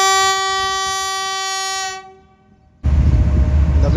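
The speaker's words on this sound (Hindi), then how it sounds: "तो अब ट्रेन मूव होना शुरू होगी।" The Tezgam passenger train's diesel locomotive sounds a long, loud, steady horn blast that fades out, then the train's heavy rumble and clatter start abruptly as it begins to move.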